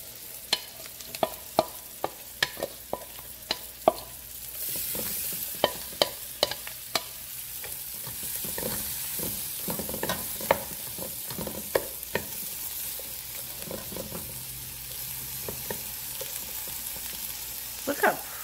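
Broccoli, carrot, peppers and purple cabbage stir-frying in a pan, a steady sizzle with sharp clicks and taps of the utensil scattered throughout, the frying growing louder partway through, no voices.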